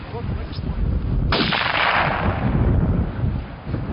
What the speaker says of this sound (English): the sound of a gunshot echoing across the tundra